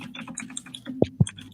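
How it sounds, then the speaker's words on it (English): Loud computer keyboard typing picked up during an online fan forum call, a quick run of close clicks and clacks with a couple of sharper thumps near the end, no talking. "Why do people have the loudest keyboards in the history of the world?"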